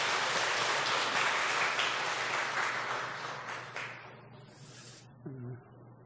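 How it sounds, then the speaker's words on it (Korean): A church congregation claps in encouragement after a prayer at a Sunday service, loud at first and gradually thinning and fading out, ending with a brief murmur of voices. "우리 격려의 박수하겠습니다."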